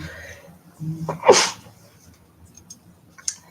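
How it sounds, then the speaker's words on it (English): A single sharp sneeze bursts out in a quiet room, preceded by a short breathy intake and followed by faint rustling. "Sneeze."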